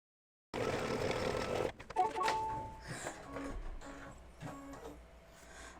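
An embroidery machine stitches a gold outline on felt, opening with a steady mechanical whir that gives way to irregular clicks, beeps and rattles.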